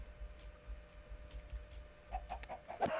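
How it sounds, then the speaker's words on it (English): Chickens clucking in Minecraft, a few short, soft game clucks near the end over low background hum, with no talk. "We're going to kill some chickens"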